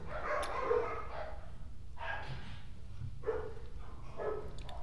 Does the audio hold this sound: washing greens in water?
no